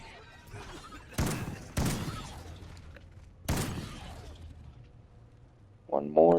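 A MAAWS rocket launcher firing in a video game on PS5, with three heavy blasts. Two come close together and a third follows after a pause, each with a booming tail, and a faint chime sounds at the end.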